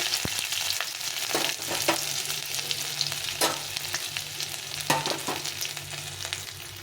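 Ginger fries in hot oil with dried red chilli and bay leaf, a close, continuous crackling sizzle broken by repeated scraping strokes of the stirring spoon, and no voices.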